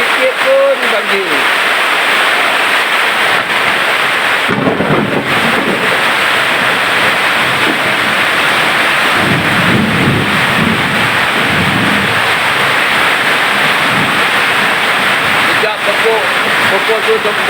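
Heavy rain pours down around a house that floods even in light showers, a loud, steady broadband roar filling the whole stretch, with a few lower swells and muffled rumbles.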